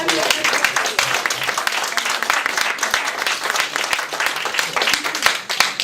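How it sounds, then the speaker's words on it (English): A room full of teachers at a maths TeachMeet event claps steadily, a dense burst of applause that holds throughout without letting up. "Big round of applause"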